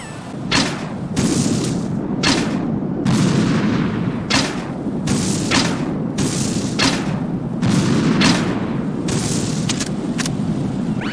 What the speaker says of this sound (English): It delivers grenades with greater accuracy than throwing the things